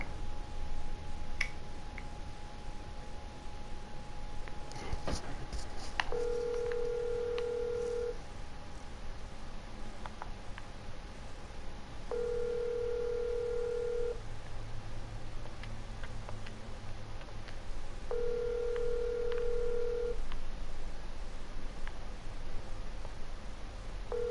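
A phone call on a livestream rings out with repeated electronic ringback tones, evenly spaced bursts about every six seconds, clear and close over a faint background hum, with a few clicks near the start.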